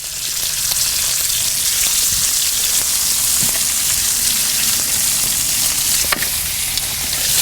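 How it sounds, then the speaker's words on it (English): Cubed chuck roast beef sears in a Dutch oven on a Kamado Joe grill, giving a steady, close, loud sizzle and crackle throughout with occasional sharper pops and spits. "we're going to put it on here and sear it off on all sides"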